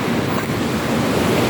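Strong current and rough, muddy water surge at a river mouth in Palawan after typhoon flooding, a loud, continuous wash of water and wind noise up close, with no voices.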